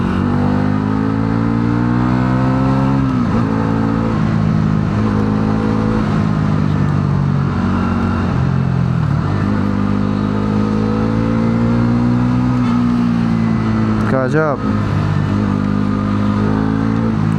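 Bajaj Pulsar NS400z motorcycle engine revving and pulling strongly while riding, a loud continuous mid-pitched drone rising and falling with gear shifts, with a brief sharp surge near the end and a single word spoken once.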